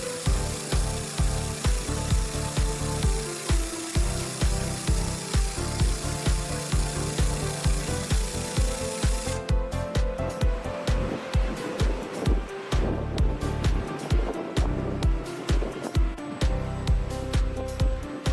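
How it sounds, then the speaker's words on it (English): Automatic platform fiber laser welding machine working on metal pipe, a steady rhythmic mechanical clatter and whir repeating evenly throughout, loud and continuous with no voices. "Transon platform automatic fiber laser welding machine. Metal pipe automatic welding."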